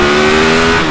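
A KTM Superduke 1290 R motorcycle engine revs hard under acceleration, a loud, close, steady harmonic roar filling the whole moment with no voices.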